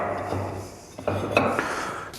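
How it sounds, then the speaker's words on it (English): A Polaris RZR clutch part, from a 2016-or-newer model, set down on a clutch compressor in a workshop, giving a few short metallic clanks and clinks close by, with no talking. "Now set it back down on the compressor."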